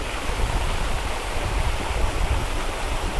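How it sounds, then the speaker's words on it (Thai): A cafe waterfall spills into a koi pond at Fleur Cafe, making a loud, steady rushing wash of water that stays even throughout, with no voices. "ก็คือเป็นทางไหลของน้ำตกลงไป"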